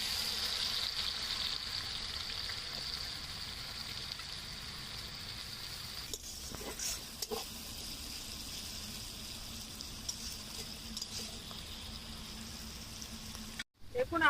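Cabbage berestha fries in hot oil with a steady, even sizzle that keeps up throughout, broken by a few brief clatters near the middle and a short drop out near the end.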